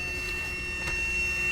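A noisy blower fan on an old 999000W inverter gives a steady close whir with a constant high electrical whine and hum, unbroken throughout.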